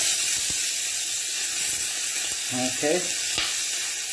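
Freshly cut vegetables hit a hot wok and sizzle steadily for a few seconds, giving a bright continuous hiss with a couple of soft knocks, while a voice says a word partway through.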